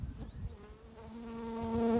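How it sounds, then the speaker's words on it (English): Close buzzing of a bee outdoors in wind, the drone wavering at first then settling into a steady, rising hum that grows louder toward the end. "There's a bee on the fucking thing."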